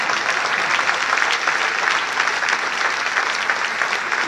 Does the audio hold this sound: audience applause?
yes